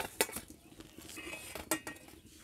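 Fried egg omelette toast being lifted out of a pan, heard as a few quiet clinks and scrapes of a utensil against the metal, faint and brief with no talking.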